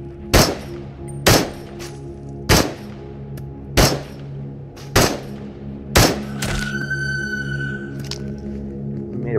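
Six sharp gunshots from the video game Into the Radius ring out at fairly regular intervals, each a loud crack with a brief tail, followed by a lingering whine.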